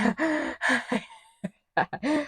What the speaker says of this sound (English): The panting.